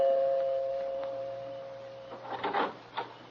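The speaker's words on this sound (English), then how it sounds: "before I pressed the bell." A doorbell pressed at a front door in an old radio drama rings as a steady held buzzing tone for about two seconds, followed by a few soft knocks and shuffles.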